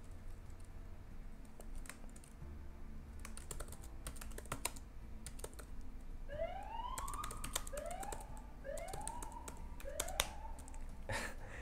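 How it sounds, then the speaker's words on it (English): A police car siren wails faintly from outside in several rising, repeating whoops, partly masked by close computer keyboard typing clicks. "Police cars have the wackiest sirens sometimes."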